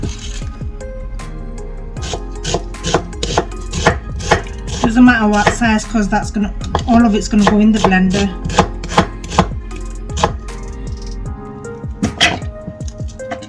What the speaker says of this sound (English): And we're going to slice that up and bang it in there too.